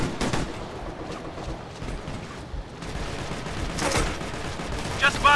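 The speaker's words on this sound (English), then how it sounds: "This is Charlie Team! We're under fire!" Gunfire rattles in the video game Operation Flashpoint, with bursts of rifle shots cracking close by, a heavy salvo near the start and another later, mixed with shouted voices and battlefield noise.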